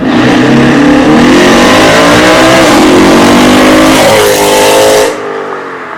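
A Jeep SRT8 all-wheel-drive truck accelerates hard from a dig, its engine roaring loud and close and rising in pitch through the gears before easing off at the end.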